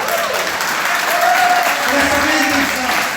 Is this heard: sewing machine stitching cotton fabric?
no